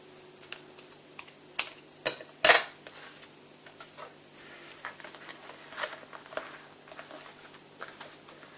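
Scissors cutting through paper for a Christmas scrapbooking album with pockets, giving a few sharp snips among quiet handling, rustling and light tapping, close and moderately loud with no one speaking.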